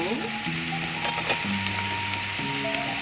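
Jerusalem artichoke sprouts with soy sauce and chili sizzle hard in a pan over high heat, a steady bright frying hiss with scraping stir sounds and faint tonal clinks, close and continuous.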